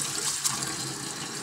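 Water running steadily from a faucet after a leak repair in which old boots were cut into a gasket, a soft continuous hiss close by with no voices.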